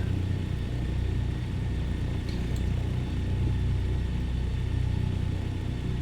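The right engine of a DC-3 idling at about 1,000 RPM in Microsoft Flight Simulator 2020, a steady low droning rumble that stays even throughout with no voices.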